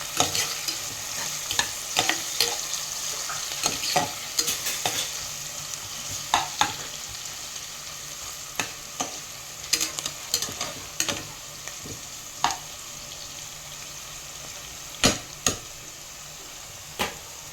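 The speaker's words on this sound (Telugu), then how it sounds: "ఆనియన్స్ ఫ్రై అవ్వాలి." Onions frying for a ridge gourd curry, a steady soft sizzle in a pan broken by repeated sharp clicks and scrapes of a spoon stirring, close and moderately loud with no talking.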